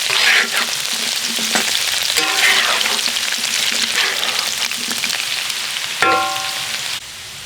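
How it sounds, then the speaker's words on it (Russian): Potatoes frying and browning in a pan, a steady close sizzle with crackling spatter running throughout, interrupted briefly by a few clinks near the end. "Ага, картошечка подрумянивается."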